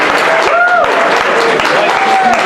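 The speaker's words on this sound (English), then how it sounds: "Let's give Desperio a big round of applause" An audience at an evening security meetup talk claps steadily for a speaker, a dense, even patter of applause with a few faint voices mixed in.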